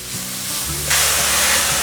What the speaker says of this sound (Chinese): 现在放入金针菇， 把金针菇炒软，